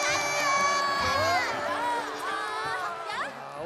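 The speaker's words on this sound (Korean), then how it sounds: "친구들, 용기를 낸 올라에게 박수!" A crowd of children in a children's television studio cheers and shouts for Olla, many high voices overlapping loudly and continuously for several seconds, with rising whoops near the end.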